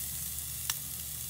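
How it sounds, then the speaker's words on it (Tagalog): Garlic and ginger sizzling in hot cooking oil, a soft steady hiss with one brief crackle, fairly quiet and alone. "So ngayon ilalagay ko na yung garlic at saka ginger."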